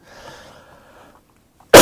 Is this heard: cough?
yes